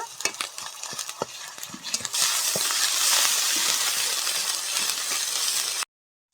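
Garlic paste goes into a pan of frying onion paste and bay leaves in village-style home cooking: a few scrapes and clinks of stirring, then a loud, steady sizzle that fills the pan before stopping abruptly.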